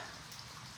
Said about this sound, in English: So enjoy the rain here